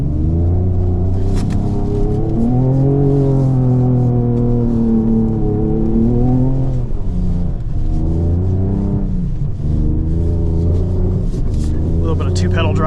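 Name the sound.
2024 Ford Ranger Raptor engine revving in deep snow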